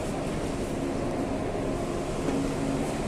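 Continuous low rumble and hum of a Pune metro train in motion, steady and enveloping, with a faint whine riding on top.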